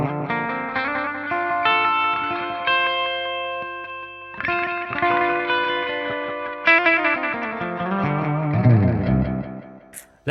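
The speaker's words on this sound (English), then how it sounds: "it's like a delay and a chorus together" A guitar played through a Fender Hammertone pedal with combined analog delay and chorus gives sustained chords and single notes that shimmer and repeat in echoing trails, with strums at intervals and no talking.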